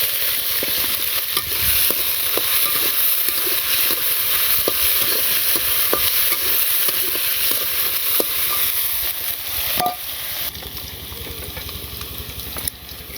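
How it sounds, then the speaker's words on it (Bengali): Potatoes sizzle in hot oil in a wok over a village cooking fire, a steady loud crackling fry with occasional stirring clicks running throughout. "আলুগুলো একটু তেলে ভেজে দিব"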